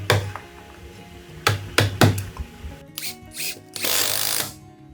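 Power driver tightening screws to fit a countertop bracket on a Japanese-inspired breakfast bar, heard as several short whirring bursts with a clicking ratchet, then a longer drive run near the end, close and alone.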